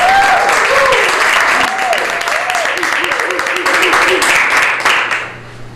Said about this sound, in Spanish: Oye, pues démosle un aplauso a Jesucristo.